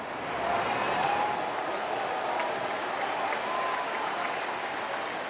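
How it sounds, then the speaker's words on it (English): A baseball crowd at a Brewers vs Cardinals game applauds, a broad, steady wash of clapping and cheering that swells early and then holds for several seconds under faint stadium noise. "Fans applaud the effort as well."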